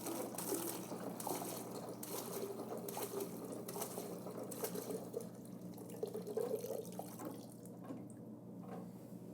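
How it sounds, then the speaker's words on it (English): A Husky 1050e dispenser running a batch dispense of liquid gives a continuous faint mechanical hum with a watery, trickling flow over it, quiet and steady throughout with no speech. "we're going to go ahead and start this again and see if we get a more accurate batch dispense"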